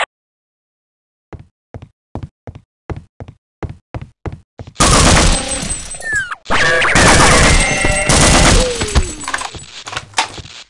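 Gunfire erupts during a base attack in Half-Life: Opposing Force: a series of sharp, evenly spaced single shots gives way to a loud, dense barrage of rapid fire and crashing impacts that runs to the end.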